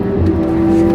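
A loud Ford Mustang race car engine with an EcoBoost swap drones steadily up close at Laguna Seca, a strained, rough hum from a troubled motor.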